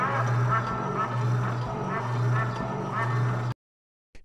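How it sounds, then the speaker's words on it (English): A duck quacks in a steady series of four loud, nasal calls at an even pace, followed by a short silence. "Duck. Duck."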